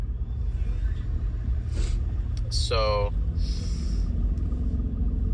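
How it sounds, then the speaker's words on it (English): A Toyota Mark II with a newly fitted, very loud exhaust rumbles steadily at idle close by, a deep constant drone under a brief spoken word and a few sharp incidental noises. "This exhaust is like just obnoxiously loud."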